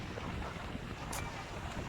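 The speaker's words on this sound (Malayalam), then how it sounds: "ഇവിടെ ഭയങ്കര തണുപ്പും നല്ല കാറ്റും" Strong wind blowing outdoors on a cold day where kites are being flown, a steady close roar of gusting air buffeting the microphone for the whole stretch.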